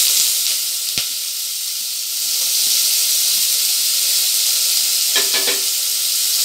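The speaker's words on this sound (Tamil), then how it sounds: "இப்போ இந்த பெரிய வெங்காயத்தை நல்லா வதக்கி விடணும்." Steady, close sizzling of large onions sautéing in hot oil for a coriander mint pulao, a continuous bright hiss with a few sharper crackles and pops, no voices.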